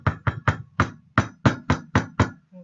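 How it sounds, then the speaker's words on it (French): A hammer strikes a piece of brick being broken up for pigment, nine sharp close blows in a quick, slightly uneven rhythm, followed by a softer final tap. "je vais prendre par exemple ce morceau de brique et je vais le casser d'abord un petit peu"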